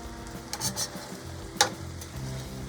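Steak fries in a pan with a low, steady sizzle and a few soft utensil clicks and scrapes, one sharper tap standing out near the middle.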